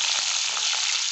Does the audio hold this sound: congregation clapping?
no